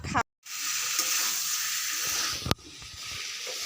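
Food sizzling and frying in a pan while being stirred, a steady hiss with a brief break near the start and a sharp clatter midway, no talking.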